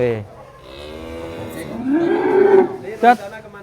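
A huge sacrificial cow in a rural pen, one of a group weighing up to a ton, gives a long, loud, close moo that rises and swells before ending with a short lower grunt.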